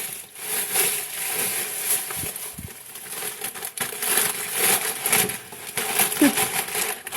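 A crinkly potato chip bag being squeezed and crushed by hand while crafting a squishy, giving irregular crackling crunches and rustles close up throughout, with a few soft knocks.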